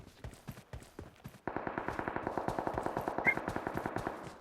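Rapid automatic gunfire in a video game, first a few separated shots, then a dense, fast, steady burst of rounds from about one and a half seconds on.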